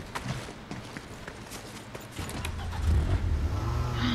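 Car driving in Fortnite, a low engine rumble that swells louder in the second half, with scattered clicks and thumps over it.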